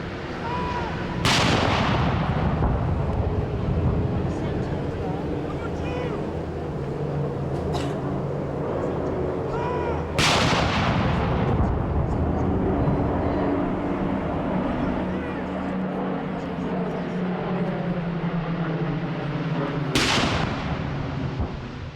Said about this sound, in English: The 41-gun salute consists of a 21-gun salute with an additional 20 rounds fired because the gun position is in a royal park.